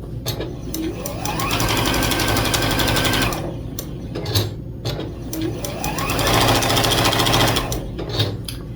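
A sewing machine runs in two long bursts while stitching a quilt's honeycomb border, its fast mechanical chatter loud and close, with a short pause for a pivot between runs.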